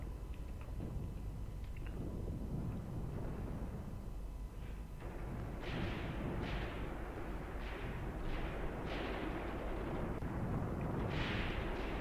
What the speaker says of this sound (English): this is of course still my pre-planned artillery